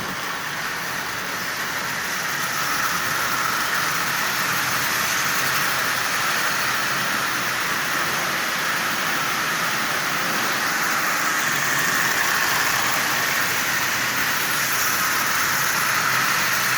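A Marx 898 toy train locomotive fitted with a traction tire runs on its track with a continuous whirring, rattling hum, steady and close for the whole stretch, with no talking.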